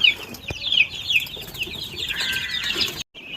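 Native chickens cluck and flap their wings while feeding on a farm, with steady close clucking throughout and a brief wing flap partway through, free of talk.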